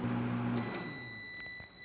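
A microwave oven melting crayons hums through a short stretch, then the hum drops away as the cycle finishes, leaving faint high electronic tones in a quiet room.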